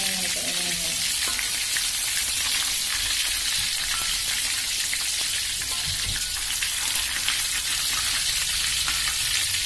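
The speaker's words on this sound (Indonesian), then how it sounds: "Sebenarnya gorengnya nggak perlu waktu lama karena dia bahan-bahannya udah matang semua ya." Stuffed tofu fries in a pan with a loud, dense, continuous sizzle and crackle, close and steady throughout, with some faint clinks early on.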